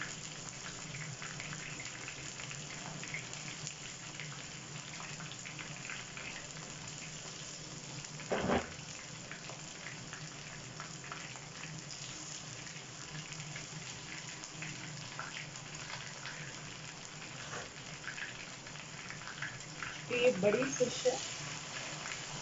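Fish frying in a pan over high heat, a steady, crackly sizzle running the whole time with one sharp clack midway, while someone talks over it.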